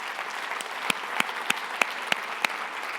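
Audience applause at the FloorCon 2022 flooring-industry conference, honoring manufacturers in the room, with a steady hiss of many hands and a few sharper claps standing out at regular intervals.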